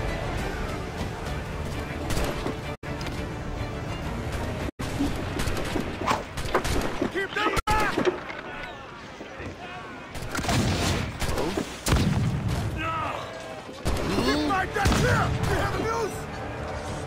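Pirate ship cannon fire in a naval battle game, repeated heavy booms and crashing volleys throughout a busy, loud soundscape, with voices calling out over it.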